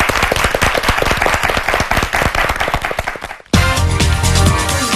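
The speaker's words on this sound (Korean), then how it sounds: "두 팀에게 박수 한번 부탁드릴게요." An audience claps for two high school debate teams at a televised debate contest, a dense, loud burst of many hands that fades out, then gives way abruptly to music.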